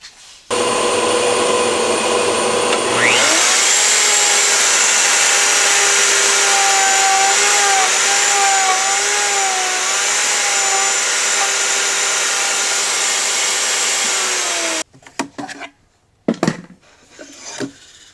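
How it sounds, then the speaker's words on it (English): A table saw cuts a box joint mortise in a board: a loud, steady whine of blade cutting runs for about twelve seconds, then winds down and stops, followed by a few brief knocks and handling sounds. "So now I'll cut the second mortise."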